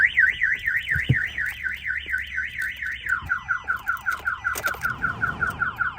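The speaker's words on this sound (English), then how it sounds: "Somebody opens any of the doors, we'll fire off the alarm and it won't allow the car to start." A Mitsubishi Pajero's aftermarket car alarm siren wails loudly and close, sweeping up and down rapidly before switching to a faster repeating chirp pattern, with a brief thump partway through.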